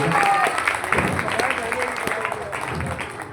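Steady applause from an audience at a mind-reading show, a dense patter of many hands clapping that continues throughout and slowly softens toward the end.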